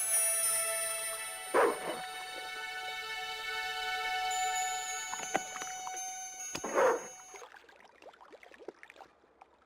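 Dog in the remastered adventure game Broken Sword 2: The Smoking Mirror giving a few sharp yips and barks, spaced apart over a quiet game scene with faint background tones.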